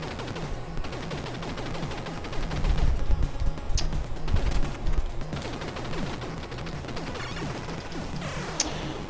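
Continuous machine gun fire in the video game Super Contra 2, a dense, steady stream of rapid retro shots layered with explosions and crashes, loud and unbroken throughout.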